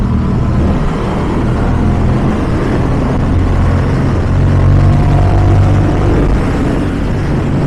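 Yamaha R7 motorcycle being ridden, with a loud, steady engine drone and rushing wind noise that holds constant throughout, no talking.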